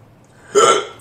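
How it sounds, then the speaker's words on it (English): One sharp, close hiccup sounds from a person during a mukbang eating session with Panda Express food, after a quiet pause. "Them hiccups back"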